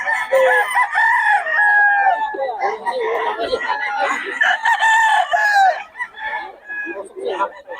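Several roosters crow in overlapping, drawn-out calls in Bocaue, loud and close, with clucking mixed in.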